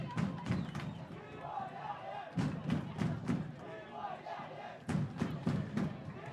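A soccer crowd at a Minnesota Super Cup final chants in loud rhythmic bursts, with repeated group shouts and thuds rising and falling across the stands.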